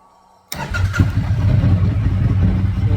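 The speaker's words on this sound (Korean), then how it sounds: "자, 일단 시동을 다시 걸어보고" A car engine cranks and catches after a short moment of near silence, then settles into a steady, fairly loud idle rumble.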